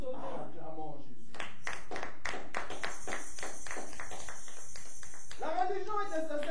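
A church congregation clapping in rhythm to acclaim Jesus, a steady run of sharp claps at about four per second, with a voice speaking before and after the clapping.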